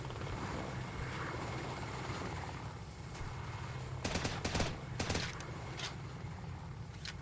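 A helicopter in Delta Force: Task Force Dagger gives a steady, close rotor thrum with engine whine, and bursts of machine-gun fire crackle over it partway through.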